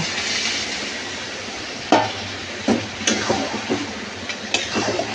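Boiled mung dal mixed into spiced fish heads in a pan, a faint low sizzle under a few distinct scraping spoon strokes and knocks against the pan, spaced irregularly and close.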